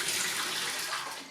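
Cold tap water runs steadily into a pan holding a couple of eggs for hard boiling, a close, even rushing stream lasting about a second and easing off at the end.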